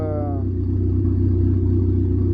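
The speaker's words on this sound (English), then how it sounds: "it's still idling like a champ" A Mitsubishi Eclipse engine idles steadily with a deep, even rumble and low harmonic hum, loud and continuous throughout, with a brief higher whine fading at the very start.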